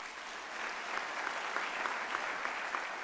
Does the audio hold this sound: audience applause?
yes